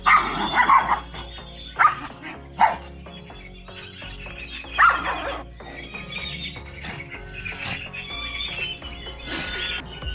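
Several dogs bark and yip in excited bursts, with high squeals between them, close by and fairly loud.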